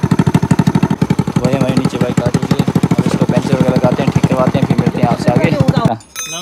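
Motorcycle engine running on a rural road near Nagarparkar, a loud rhythmic thumping with rapid pulses, steady and close, cutting out near the end, with people talking over it.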